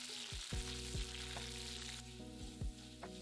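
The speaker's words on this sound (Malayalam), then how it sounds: "എണ്ണ ചൂടാകുമ്പോൾ 1 ടീസ്പൂൺ കടുക് പൊട്ടിക്കുക." Mustard seeds, garlic and curry leaves fry in hot oil for a Kerala-style mango pickle. A steady soft sizzle runs throughout, punctuated by several sharp pops and a few sweeping tones.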